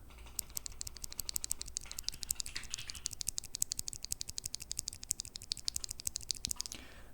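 Fast typing on a Keychron Q1 keyboard fitted with Phantom Brown switches, a dense stream of close, crisp keystrokes running steadily for several seconds with no talking.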